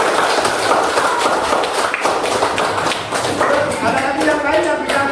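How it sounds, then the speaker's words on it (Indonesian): A class of students claps together in a classroom, a dense, sustained patter of many hands that stays even throughout, with voices mixed in. "Kita tepuk tangan."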